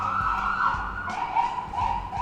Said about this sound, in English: Oh, it's another ambulance.